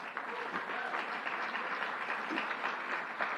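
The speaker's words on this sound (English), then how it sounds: "Give her a round of applause" Dense applause from a crowd at an LGBTQ+ Pride event, steady and fairly loud throughout with no pauses and no clear voices on top.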